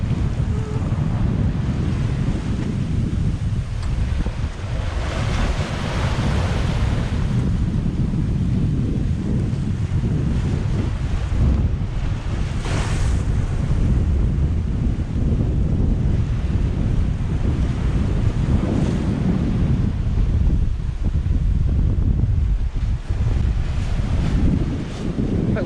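Ocean waves wash and churn beneath constant wind buffeting a microphone aboard a sailboat on a rough 220-nautical-mile passage to the British Virgin Islands. The sound is a continuous, full roar with occasional louder surges.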